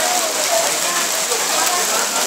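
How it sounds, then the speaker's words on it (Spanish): Hail pelts down steadily in Plaza de España in Cuenca during an outdoor event, a dense, loud hiss of pattering ice across the whole stretch. "Aquí granizando"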